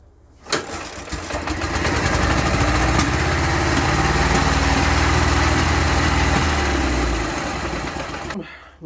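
A 1993 Ural motorcycle engine, started while hot, fires up with a sharp catch and settles into a steady, lumpy idle close by, running for several seconds before cutting out abruptly.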